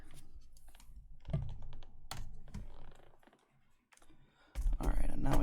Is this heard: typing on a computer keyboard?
yes